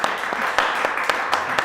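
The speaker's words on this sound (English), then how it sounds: "Let's clap our hands to Dimitris." Audience applause at a Cafe Scientifique public science talk, a brief burst of steady clapping from a modest crowd, close and fairly loud.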